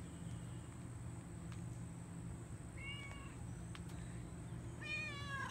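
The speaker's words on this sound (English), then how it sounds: "And there's the campground cat that belongs to no one." A stray campground cat at Thousand Trails Lake Medina gives two short meows, the first around mid-clip and the second near the end, heard at moderate distance over a steady low outdoor hum.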